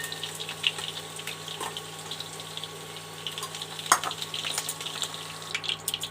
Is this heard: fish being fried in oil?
yes